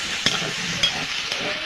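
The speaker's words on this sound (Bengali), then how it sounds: "এটা এবার নাড়াচাড়া করে ভেজে নেব।" Chickpea greens with boiled green peas, turmeric and salt are fried and stirred in a pan. A steady soft sizzle runs throughout, broken by three evenly spaced spatula scrapes, close up and with no talk.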